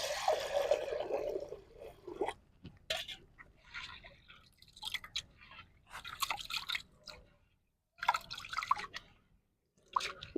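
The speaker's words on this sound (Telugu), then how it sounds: "ముందుగా మనము కందిపప్పుని దీంట్లోకి మూకుల్లోకి పెట్టేసుకొని కడిగేసుకుందాం" Toor dal (pigeon pea lentils) being rinsed in a bowl of water for gongura dal, with irregular close splashes, drips and swishing in bursts separated by brief pauses.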